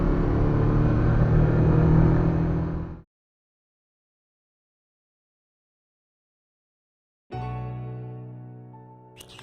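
A 1986 Suzuki SS80 car engine pulls up through its gears in a steady loud drone that drops out abruptly, then a fresh rising engine note resumes after several seconds of silence.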